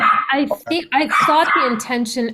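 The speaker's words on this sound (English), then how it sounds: "I'm so sorry about the dog. It's loud." Dog barking loudly and repeatedly nearby during an online task force meeting, with a person speaking at the same time.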